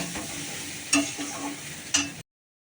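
A spatula stirs leafy greens frying with salt and turmeric in a pan: a soft, steady sizzle broken by two sharp scraping strokes about a second apart, then sudden silence.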